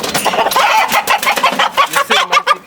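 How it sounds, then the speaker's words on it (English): A flock of local-breed chickens clucks and chatters nearby in a busy, overlapping chorus of short, loud calls, with no talking. "These are pure local chicken breeds."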